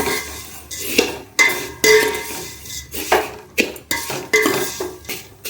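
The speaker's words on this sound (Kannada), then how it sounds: "ಈಗ ಶಾವಿಗೆನ ಚೆನ್ನಾಗಿ ಫ್ರೈ ಮಾಡ್ಕೊಂಡಿದ್ದಾಯಿತು" Metal spatula scraping and clanking against a pan as vermicelli (shavige) is fried and stirred for payasa, a steady run of loud, close strokes and clinks with no voices.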